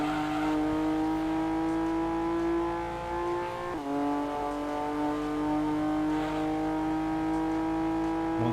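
A Datsun race car engine in Gran Turismo 2 holds a steady high drone, then drops sharply on a gear change and climbs again. It runs loud and close the whole time, with no voices over it.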